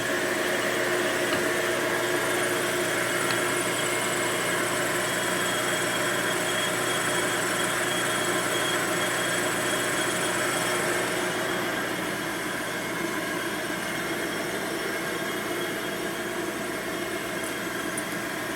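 A 1972 Harley Sportster 1000cc Ironhead engine idling at low RPM, a steady, continuous mechanical drone that holds level throughout and eases slightly softer toward the end.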